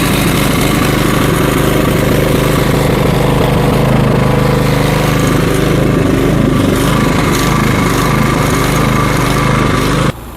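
A Cub Cadet snowblower engine runs loud and steady at close range, a constant rough mechanical drone that cuts off abruptly at the end.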